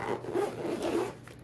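Zipper drawn closed on a Hot Logic Mini portable oven bag, a quick close rasping zip in two short strokes, with no talking.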